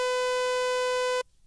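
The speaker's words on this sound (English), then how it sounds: "I just used a sawtooth wave synth that sounds like this." A bright, buzzy sawtooth-wave synth holds one steady sustained note for just over a second before cutting off abruptly, harsh and grating, heard alone.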